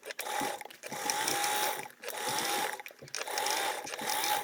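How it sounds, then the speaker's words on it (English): Close and steady, a sewing machine drives a seam joining the top of a large foldable tote to its main lining, running in long bursts broken by three brief pauses. "we're sewing the top to the main lining with a 3/8 seam allowance"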